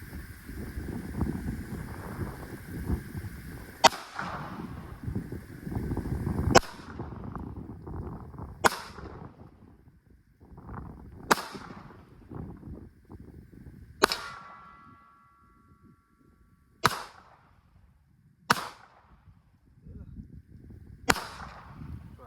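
Pistol shots from a Springfield Armory Echelon, fired one at a time at an outdoor range: roughly seven sharp, loud reports spaced a second or two apart, over a low rumbling background, with a brief ringing after some shots.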